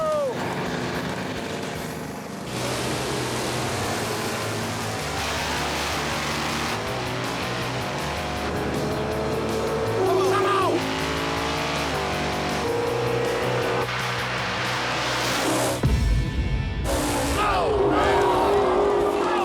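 1980 Chevrolet Camaro race cars launching in a drag race, loud sustained engine roar with revving and gear changes, plus a sharp burst near the end, under commentary.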